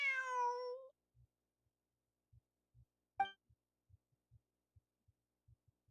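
A cat meows in Genshin Impact, one clear harmonic call at the start and then a shorter second call, with soft low thumps pulsing through the quiet.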